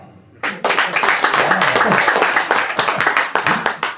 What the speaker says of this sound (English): Clap it up if you brought a cooler